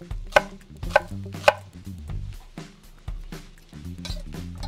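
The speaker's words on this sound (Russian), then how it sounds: "Берем и также мелко шинкуем." Knife finely chopping fresh parsley and coriander on a board, a few sharp close strikes followed by quicker, softer chops, with no talking.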